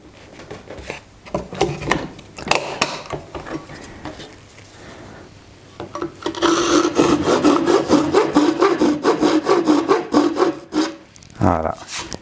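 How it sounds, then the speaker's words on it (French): Japanese hand saw strokes cutting through a wooden workbench, scattered rasping at first, then a steady, loud run of rapid back-and-forth sawing close by. "Oui, je scie l'établi."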